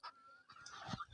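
Three-month-old chickens in a coop, including Asil cross and Gramalakshmi birds, giving a few faint, brief clucks and honking calls.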